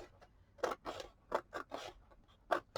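Scissors snip through a paper gift bag in a handful of quick, close crunchy cuts with short pauses between, quiet and alone without talk.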